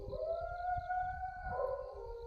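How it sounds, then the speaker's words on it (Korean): A dog howls in the distance in a long, wavering, siren-like tone that shifts pitch partway through, heard faint over a low rumbling background. "멀리서 타케루가 짖는 소리가 들렸다."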